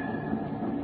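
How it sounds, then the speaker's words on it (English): A train arriving at a station as a vintage 1935 radio show sound effect, a steady low rumbling roar with a rolling mechanical texture, heard alone without voices. "Say, here comes the train."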